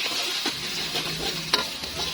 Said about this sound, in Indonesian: kita tinggal tumis aja bumbunya sampai wangi dan juga mateng